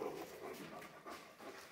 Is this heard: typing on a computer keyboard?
no